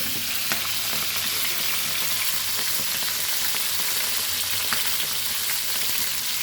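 Sardines frying in Goan recheado masala in very hot oil, giving a dense, steady, loud sizzle and crackle throughout with faint occasional pops and no voices.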